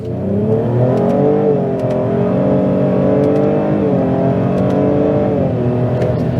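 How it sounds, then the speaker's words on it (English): Holden VF Commodore SV6 accelerating in manual mode. The engine drone is loud and close, rising in pitch through the gears with brief dips at each upshift and no talk over it. "let's try some acceleration in manual."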